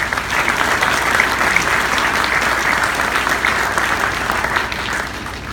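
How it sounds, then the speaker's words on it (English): Sustained applause from an audience at an evening club gathering, honoring the immediate past club president and current president; a dense, steady wash of many hands clapping for several seconds, full and even, with no speech over it. "Please give them a round of applause"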